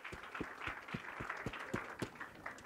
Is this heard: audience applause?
yes